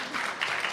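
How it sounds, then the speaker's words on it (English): A short stretch of soft, distant audience applause at a women's economic empowerment forum in Kenya, a steady wash of clapping with no distinct individual claps. "clap for her, appreciate"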